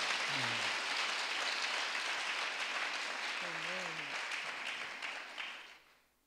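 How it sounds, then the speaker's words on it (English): Church congregation applauding as a dense, steady wash of clapping, with brief voices calling out over it, fading out toward the end. "Church, give them apples of hand clap."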